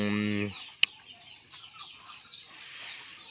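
Native chickens on a small backyard farm give a clucking call at the start, followed by a sharp click and faint, low ambient noise.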